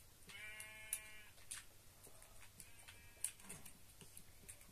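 A sheep bleats faintly in a video game, one short bleat and then a fainter second one, among light ticking and clicking game sounds, with no talk.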